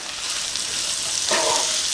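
Mutton fry sizzles steadily in a hot pan, and a spoon stirs it with a brief scraping rustle midway, loud and close with no talk.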